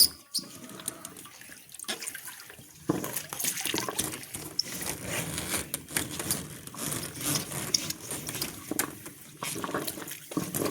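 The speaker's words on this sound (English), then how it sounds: "Letting all the water run back to the pool." Water from a twisted pool hose draining back into the pool, a continuous splashing, gurgling flow that starts after a quieter moment and runs steadily, close by with no talk.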